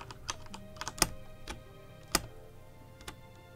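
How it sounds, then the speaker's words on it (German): Someone hammering on a computer keyboard while gaming, with a run of sharp, irregular key clacks, a few noticeably harder strikes standing out, close and fairly quiet with no talk. "auf der Tastatur rumhämmert"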